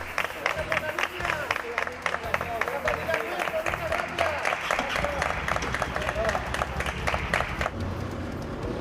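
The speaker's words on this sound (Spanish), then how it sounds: "Por eso se han ganado el aplauso de todos." An audience breaks into sustained applause, a loud crowd clapping hard with crisp, rapid hand claps and some cheering, continuing strongly before easing off near the end.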